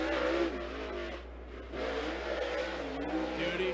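A dirt super late model race car engine roars on a qualifying lap at a Dirt I-5 Super Late Model Series event, revving loudly with shifting pitch, dipping briefly before surging again.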